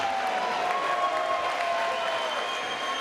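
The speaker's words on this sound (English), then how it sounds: "let's have a big round of applause for both of your main event fighters in this cage" A cage-fighting event crowd gives a sustained round of applause for the main event fighters. The clapping is dense and steady and fills the whole stretch without pause.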